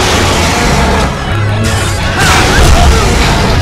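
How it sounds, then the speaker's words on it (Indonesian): Explosions and crashing impacts in the action video game God Hand, loud and dense throughout with a broad rumbling low end, a brief dip midway, then swelling again. "Meledak anjir."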